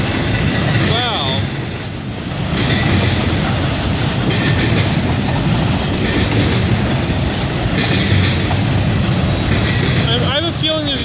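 Freight train hauled by ex Burlington Northern locomotives, carrying container racks, rolls past with a steady rumbling roar and rhythmic wheel clatter, loud and close, with brief wheel squeals and occasional voices over it.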